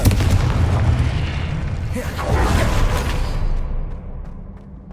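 Fire spell explosions in the Hogwarts Legacy video game, deep booming blasts with crackling bursts that roll and fade, loud and close over game sound.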